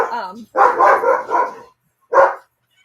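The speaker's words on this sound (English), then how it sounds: "Hold on just a second, because my dogs are losing their minds. There's something going on in the backyard, I think." Dogs in a backyard bark in a quick flurry of loud, close yaps, then fall quiet before one final bark.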